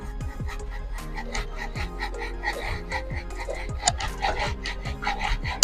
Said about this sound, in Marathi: हे बघा बारीक किसणीवरती आपण हा किसून